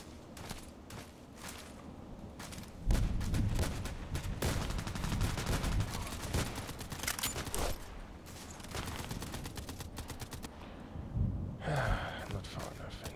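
Gunfire in a sniper video game rings out in a dense, busy stretch: repeated sharp shots and bursts over a constant game soundscape, with a loud onset near the start and another cluster toward the end.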